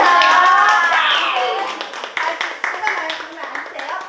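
A class audience at an open lesson breaks into applause, a burst of hand claps following children's voices and speech, moderately loud and close.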